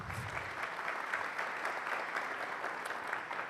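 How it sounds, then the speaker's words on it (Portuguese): An audience claps steadily at a business talk on strategy and OKRs, the dense applause filling the room evenly for several seconds with no break. "Uma salva de palmas para o Arthur"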